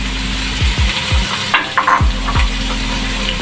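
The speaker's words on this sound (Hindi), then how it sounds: "अब इसमें ऐड करेंगे टमाटोज़, चॉप किए हुए टमाटर 2 मीडियम।" Two medium chopped tomatoes go into an aloo chana pulao frying in a pan, a steady loud sizzle under rhythmic scraping stir strokes about twice a second.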